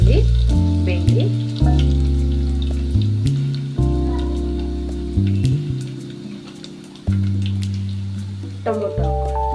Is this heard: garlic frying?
yes